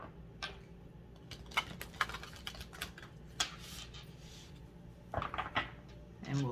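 Soft, irregular riffles and light taps of cards being shuffled nearby, quiet clicks scattered across the clip.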